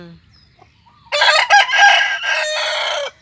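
A rooster crows loudly and close by, one long crow that starts about a second in and carries on to near the end, with quiet sound before it and no talking.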